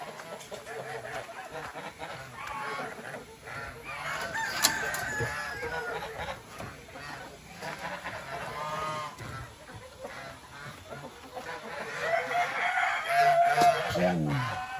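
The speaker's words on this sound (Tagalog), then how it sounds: "Pakainin natin yung manok." Chickens cluck and call over a busy, noisy farmyard background, with a rooster-like crow and some faint voices mixed in.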